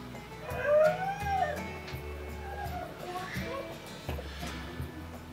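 An excited dog whines and yips in rising, wavering cries, loud and close, broken by short pauses, while a household stays lively with faint voices around it.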